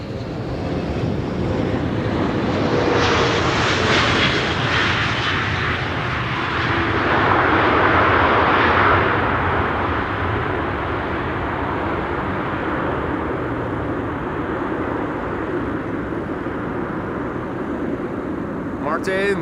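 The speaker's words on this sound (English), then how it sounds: "Emirates flight 145 arrived from Dubai." An Emirates airliner arriving from Dubai at Amsterdam Schiphol Airport, its engine roar swelling and fading at a distance, with talk running over it.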